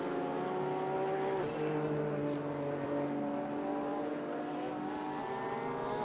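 Race cars roar continuously around the Bathurst circuit in a racing video game, engines droning and shifting pitch as they pass close by, a steady loud engine wash with no talk.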